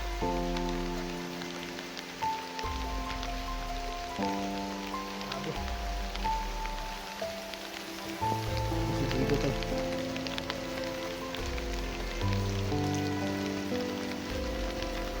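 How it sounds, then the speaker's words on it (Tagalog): Steady rain patters on surfaces in a constant, dense hiss, with tonal background music playing throughout. "So nabutan pa kami ng ulan."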